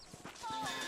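Horse hooves clip-clop in the Red Dead Redemption video game, a short run of soft, rhythmic thuds under ongoing game noise and voices.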